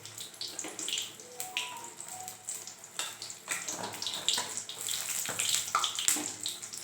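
Water runs and splashes steadily into a pot for making tea for several seconds, a continuous hissing pour with small fluctuations and no talking.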